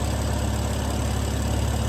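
High-mileage BMW M4 engine idling after repair, a smooth, steady low hum that stays even and close for the whole short stretch with no revving.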